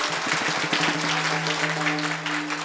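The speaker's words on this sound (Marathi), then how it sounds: "पोलीस प्रशासनासाठी जोरदार टाळ्या झाल्या पाहिजे" A kirtan crowd in Sangamner bursts into sustained applause, dense and even clapping that carries on throughout, with a faint tonal hum underneath.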